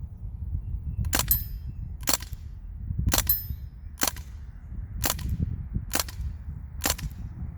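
A small fun gun fires seven sharp cracks at roughly one-second intervals outdoors, each shot a crisp loud snap over low wind rumble, with no voices.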